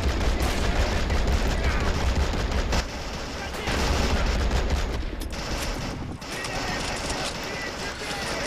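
Mortar and gunfire from Men of War: Assault Squad, in a Soviet battle at Koenigsberg, form a loud, dense barrage of overlapping shots and blasts that barely lets up, with voices mixed in.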